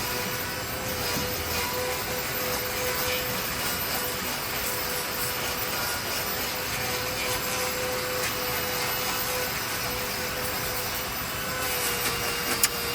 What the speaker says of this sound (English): So I'm just taking the grinder to lower this heel a little bit more